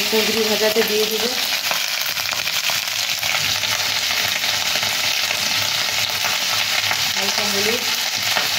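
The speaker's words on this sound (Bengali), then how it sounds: "কুঁদরি ভাজাতে দিয়ে দেবো" Ivy gourd (kundri) frying in oil in a wok, a close, loud, unbroken sizzle with stirring scrapes running the whole way through.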